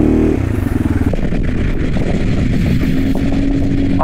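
A turbocharged Yamaha XMAX 300 scooter engine idling loudly nearby with a steady low rumble, a brief rev at the start, then a rough, uneven running hum.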